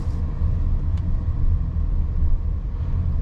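Steady low road rumble fills the cabin of a 2022 Audi A6 55 Premium Plus cruising at speed, with wind and tire noise droning on evenly and no talking.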